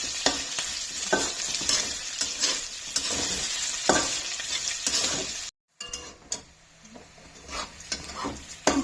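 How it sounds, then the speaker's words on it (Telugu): Potatoes, curry leaves and spices sizzle steadily in an oil-filled pan while being stirred for aloo upma curry, with scraping strokes against the metal, a brief break midway, then quieter frying. "ఇవన్నీ కొద్దిగా వేగనివ్వాలండి."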